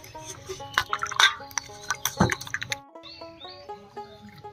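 Raw green bananas being washed in water, with splashing, dripping and sloshing in irregular close bursts, a sharper splash in the middle, then lighter trickles.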